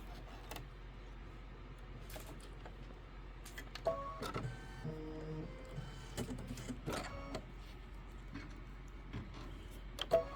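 A sewing machine runs a placement stitch for a quilt appliqué block, giving short bursts of steady mechanical whirring and ticking in a quiet room, with no one talking.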